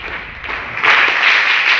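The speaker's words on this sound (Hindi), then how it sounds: "एक बार जोरदार तालियां" Audience applause at a college NCC wing event, a broad wash of clapping that swells louder partway through and continues steadily to the end.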